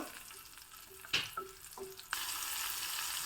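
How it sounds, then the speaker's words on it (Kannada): Field beans (avarekalu) drop into hot oil in a pan, giving a soft sizzle with a few small clatters and stirring bumps, then a steady brighter crackle of frying for the last second, faint and close. "ಅವರೆಕಾಳನ್ನು ಹಾಕ್ತಾ ಇದ್ದೀನಿ ಚೆನ್ನಾಗಿ ಎಣ್ಣೆಯಲ್ಲಿ ಹುರ್ಕೋಬೇಕು"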